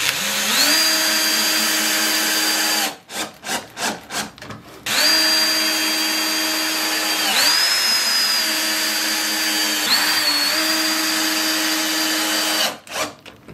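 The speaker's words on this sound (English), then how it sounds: "Decided to put some screws in just to give it a bit more strength." A cordless power driver runs screws into table saw ducting. Several long, loud whining runs rise and fall in pitch, with short gaps where the motor stops and brief rattling between screws, close up.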